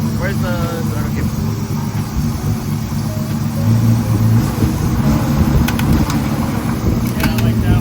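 A BMW E36 engine idles and revs loudly up close with a loose part smacking, a rough steady drone that swells partway through while a person talks over it.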